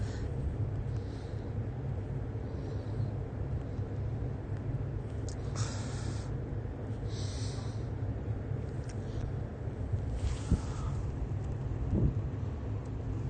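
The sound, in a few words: rain falling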